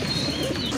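Running pigeons in a pair kept for sale, giving low, soft cooing close by in a short continuous burst.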